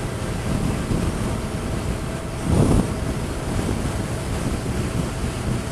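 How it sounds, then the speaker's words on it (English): Steady broad wind roar buffeting a rider on a 2013 Hayabusa motorcycle, continuous and close, with a brief louder gust swelling midway. "Still like a weird crossy wind"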